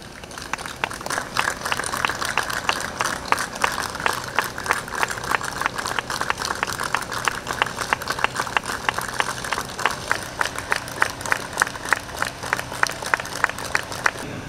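Sustained applause from a crowd at an outdoor ceremony marking the 210th anniversary of the start of Mexico's independence in Yucatán, steady dense clapping running throughout without letting up.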